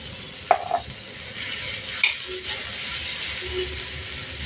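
Cashew bits being stirred into a paneer do pyaza in a pan, with garlic: a few clinks and scrapes of a spoon against the pan over a soft sizzle, close and brief, without speech.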